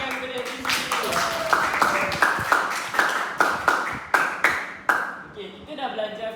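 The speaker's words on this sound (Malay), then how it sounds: "beri tepukan kepada diri sendiri." Students in a primary-school Islamic studies class clap for themselves, a ragged burst of hand claps, roughly ten distinct near claps over a few seconds, with a voice talking at the start and again at the end.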